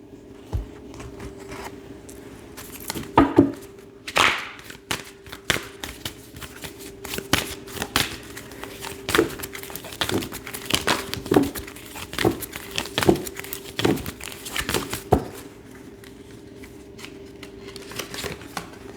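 Oracle cards shuffled and handled at close range, quick riffling and flicking bursts with papery snaps and taps in an uneven rhythm over a faint steady hum.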